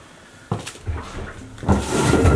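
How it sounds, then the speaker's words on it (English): A door in a Cleveland, Ohio triplex is pushed shut and barricaded: a sharp knock, scraping and shuffling thuds, then a louder rumbling clatter toward the end, close by. "rebarricade that door"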